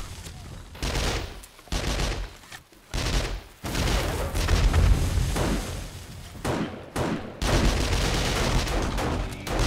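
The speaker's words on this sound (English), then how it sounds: "It's pointless me using these pipe bombs." Loud, rapid bursts of explosions and gunfire from pipe bombs and grenades in the survival video game 7 Days to Die, in an Alpha 19 multiplayer final-stand fight, booming continuously with brief lulls.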